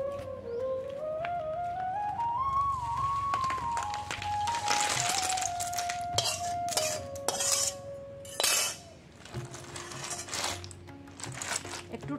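Boiled snails are stirred in a cooking pot, with metallic scrapes and clinks of a utensil against the pot in uneven bursts, while a high whistling tone glides and holds in the background.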